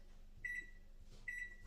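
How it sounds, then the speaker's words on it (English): Kitchen timer being set for baking a lemon pound cake, giving two short, clear electronic beeps about a second apart, fairly faint in a quiet room with no talking. "we'll set the timer for an hour and a half or 90 minutes"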